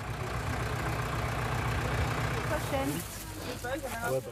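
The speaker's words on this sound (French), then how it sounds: "vient donner un coup de main avec son légendaire tracteur" An old tractor engine runs at idle outdoors, a steady low rumble that is loud and close for most of the clip, then drops away near the end as voices and other noise take over.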